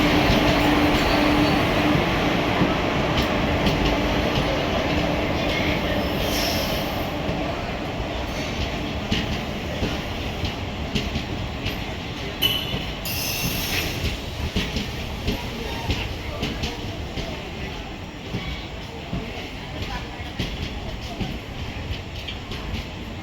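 Continuous rumble and clatter of the 07110 Banaras–Narasapur passenger train running on the tracks near Bhimavaram Junction, loud and close at first and easing slightly as it continues.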